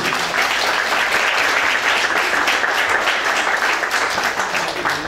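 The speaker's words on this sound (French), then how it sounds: "je vais laisser la parole à Isabelle Tassin, la présidente de l'organisation Miss Oise, qui est avec nous, et que je vous demande d'applaudir bien fort" Dense, steady applause from a crowd at the Miss Oise 2017 candidate presentation, greeting the organisation's president. Loud, even clapping holds throughout without a break.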